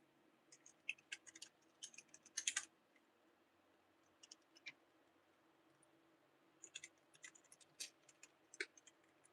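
Keys on a failing computer keyboard clatter in short clustered bursts with gaps between them, quiet and close, against a faint low background hum and with no voices.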